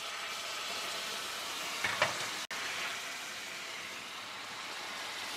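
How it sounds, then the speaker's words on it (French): Caramel for crêpes flambées bubbles and sizzles steadily in a pan, a continuous close hiss with a brief clink partway through and no voices. "le caramel est en train bien de se faire, il est en train de buller"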